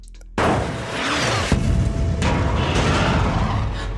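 A missile strikes a submarine in a film action scene, a sudden huge boom followed by a sustained roaring blast with debris and rumble, no talk.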